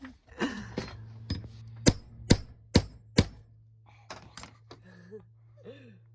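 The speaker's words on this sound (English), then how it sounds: "You can hammer now." A series of sharp, separate hammer strikes on metal curtain snaps in a camper van, spaced unevenly and close by, with quiet voices in the gaps.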